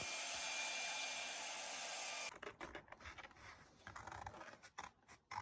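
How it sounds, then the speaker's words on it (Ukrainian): A hair dryer blows with a steady high whoosh for a couple of seconds while drying paint, then cuts out, leaving scratchy handling noises and rustling. "А я тут навіть, бачите, феном сушу фарбу."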